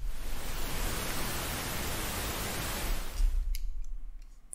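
Steady, broadband pink noise played as a sleep aid, a dense hiss that holds constant for several seconds before cutting off into a quieter room tone with a few faint ticks.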